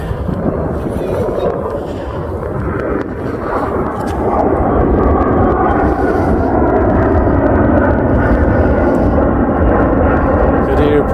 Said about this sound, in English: There's a plane going up right there,